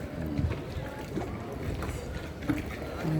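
A gondola rumbles steadily through canal water in Venice, Italy, low churning and wind noise filling the background throughout, with a few brief knocks.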